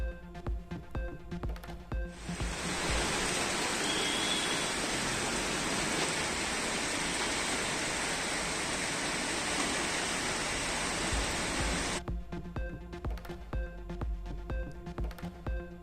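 Rain falls across parts of Tamil Nadu as a dense, steady hiss that cuts in suddenly, holds for about ten seconds and then stops abruptly, set against a soft background music bed.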